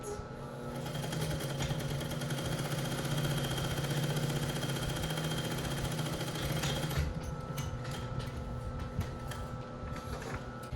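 A sewing machine runs steadily, stitching the center back seam of a skirt with a one-inch allowance, a continuous close mechanical whir that shifts slightly in texture partway through and carries on alone without talk.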